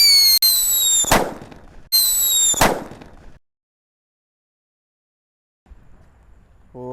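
Whistling King Thunder firecrackers go off outdoors: a rising whistle followed by a loud sharp bang, repeated twice in quick succession, then near silence.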